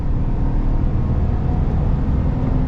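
A 2023 Chevy Silverado 1500 LTZ with a 5.3-litre V8 pulls hard at high elevation. A loud, steady engine roar fills the cab, with no talk over it.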